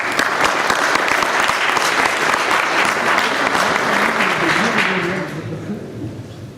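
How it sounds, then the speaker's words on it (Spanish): An audience at the JIAP 2013 technology conference gives a sustained round of applause for a speaker, loud and dense for about five seconds before fading out, with a voice faintly emerging as it dies away. "Aplausos, por favor."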